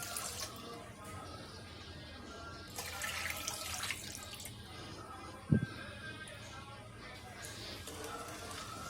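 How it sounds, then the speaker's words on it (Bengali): Water is poured into a stovetop pan already holding two cups of sugar, the start of a sugar syrup for soaking semolina pitha. A steady splashing pour runs over a busy kitchen background, with a sharp knock partway through. "দিয়ে দিব এই কাপের 3 কাপ পানি"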